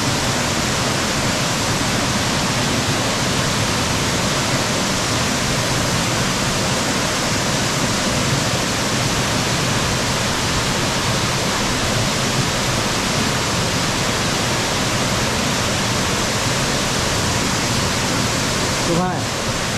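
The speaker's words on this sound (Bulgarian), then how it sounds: "Това е Косовски водопад." Kosovski waterfall near Kostenets, a loud, unbroken rush of falling water that fills the whole stretch evenly from start to finish, heard up close with no other sounds.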